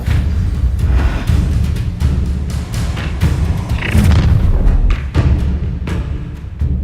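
The Incendio fire spell is cast in the video game Hogwarts Legacy, a loud, dense rush of booming, crackling blasts and thuds that carries through the whole stretch with no talk.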